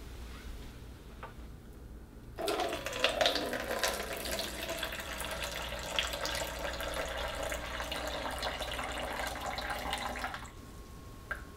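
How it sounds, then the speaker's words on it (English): Fluid pours steadily from an Aquadex ultrafiltrate bag being emptied during priming of the blood circuit, a continuous close splashing rush for about eight seconds with quieter room tone before and after. "Empty the ultrafiltrate bag."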